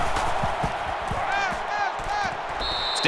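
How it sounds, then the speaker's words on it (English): A roaring stadium crowd in the college football game NCAA 14 at an LSU versus Alabama matchup, a loud sustained swell with thumping footsteps and game sounds, under a commentator's play-by-play voice. "And this crowd is going absolutely crazy."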